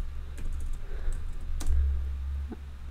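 Keys clacking on a computer keyboard as a quiz question is typed into an Atlassian Confluence learning app, a short burst of close, irregular taps over a low hum.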